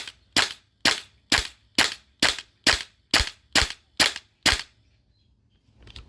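An HPA-powered airsoft rifle fitted with an Airtac adapter fires ten sharp semi-automatic shots in a steady, evenly spaced rhythm. Each crack is loud and close, and a short quiet stretch follows the last shot.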